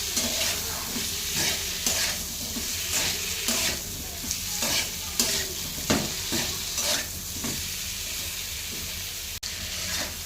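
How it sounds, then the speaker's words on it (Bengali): Eggplant and potatoes with a pinch of salt are stirred and fried in a pan, steady sizzling under repeated scraping strokes of a spoon, close and fairly quiet, with no voices. "একটু লবণ দিয়ে দিচ্ছি, ভালো করে এটাকে কষাবো।"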